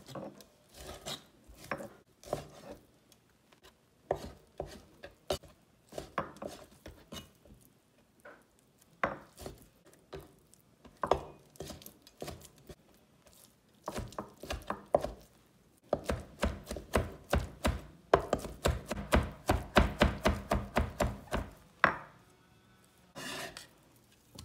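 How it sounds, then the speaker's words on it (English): A knife mincing pork on a cutting board gives sharp, irregular chops that speed into a rapid, loud burst of dense strikes near the end, with no talking. "After that, we mince the pork."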